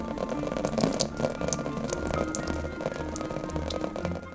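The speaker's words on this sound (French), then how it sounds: "ils ont intégré ces sons de pluie point par point sur l'intégralité du jeu" Rain pattering on varied surfaces such as earth, wood, sheet metal and car roofs in The Last of Us video game, a steady dense wash of drops with scattered sharper ticks, continuous and fairly loud with no voices.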